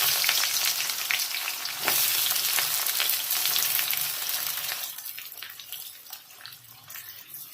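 Onions and whole garam masala spices sizzle loudly in hot mustard oil for a curry, a steady dense frying crackle that eases slightly toward the end, with occasional stirring clinks.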